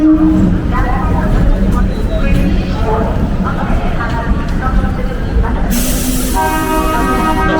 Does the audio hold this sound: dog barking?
no